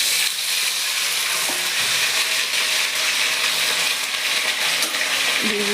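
Paneer pieces frying in a pan, a steady broadband sizzle that holds close and fairly loud throughout with faint clinks of stirring and no talk.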